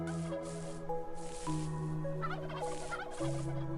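Turkeys in the Minetest/Luanti video game gobble in rapid, bubbling bursts over a steady background of sustained tonal game music.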